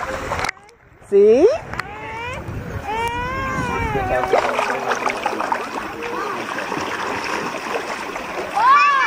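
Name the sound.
child swimming and splashing in a pool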